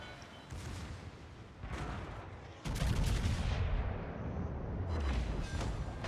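Warship guns in a naval video game fire in heavy booming volleys, one loud salvo followed by sustained rumbling and further blasts, with no talk over them.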